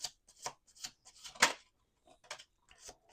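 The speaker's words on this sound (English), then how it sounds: "Let's do 2 more shuffles." Tarot cards being shuffled by hand: a series of soft, quick riffles and flicks in separate bursts, close but faint, with short pauses between them.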